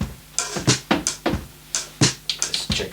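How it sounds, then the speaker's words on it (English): Chopped kick drum ghost notes played on an Akai MPC 2000 at sixteen velocity levels, a rapid sequence of about a dozen punchy hits that swing from loud to soft, close and dry, with no voices. "I also chopped from the drum loop kick drum, some extra, because I want to do some ghost notes"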